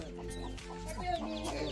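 Chicken clucking at a village Holi gathering: a run of close, steady clucks repeating for under two seconds over a low background hum.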